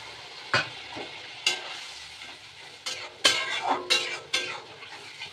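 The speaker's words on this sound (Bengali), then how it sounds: "উচ্ছেটাকে লম্বা লম্বা করে কেটে নিয়েছি, এটাকে ভাজা করবো" Long strips of bitter gourd fry in a pan, giving a steady crackling sizzle close by with several louder bursts as the strips are stirred and shifted, with no talking.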